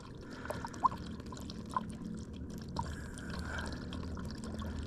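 Liquid gurgles and trickles close by as it bubbles out of the engine head of a Minneapolis Moline 335 tractor, a continuous watery pouring sound with a few small bubbling pops.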